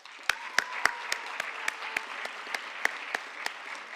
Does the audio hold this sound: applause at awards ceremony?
yes